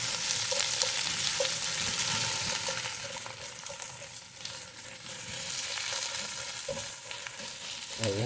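Two onions and chili frying and being stirred in a pan for Spanish mackerel in coconut milk, a steady close sizzle with scraping stir strokes throughout.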